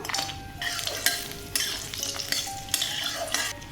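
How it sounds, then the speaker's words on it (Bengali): Sun-dried lentil dumplings (bori) fry in hot oil, with bursts of bubbling sizzle that swell and fade in uneven pulses as a spatula scrapes and turns them, close and clear. "তেল গরম হলে প্রথমে আমি বড়িগুলো ভেজে নেব তেল গরম হয়ে গেছে বড়িগুলো দিয়ে দিলাম"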